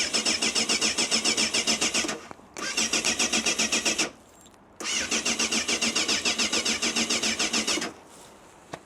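Yamaha FZR 600 motorcycle engine cranking after sitting 15 years, three long bursts of rapid rhythmic starter churning separated by short pauses, close and steady, never catching.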